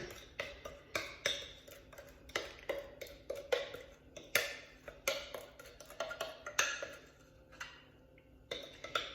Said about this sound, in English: now I'm going to put the brownie batter down in the pan